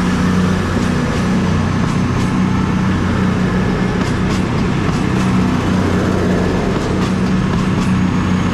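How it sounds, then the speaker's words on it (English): A CrossCountry passenger train, the Edinburgh to Plymouth service formed by unit 220033, passing through Exeter St Davids station with a loud, continuous diesel rumble and faint rhythmic wheel clicks over the rails, close by. "the partner now is the 1549 cross-country service to Plymouth from Edinburgh"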